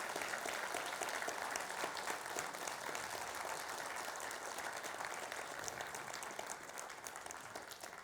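An audience at a Sooke Talks community event gives sustained applause, a dense wash of clapping that stays loud throughout and tapers slightly toward the end.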